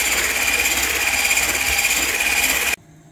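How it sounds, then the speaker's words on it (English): An electric hand whisk beats cupcake batter with sugar in a bowl, giving a steady, loud motor whine that runs without a break and then cuts off abruptly near the end. "we are going to whisk this using an electric whisk"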